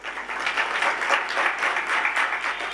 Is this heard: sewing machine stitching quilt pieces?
no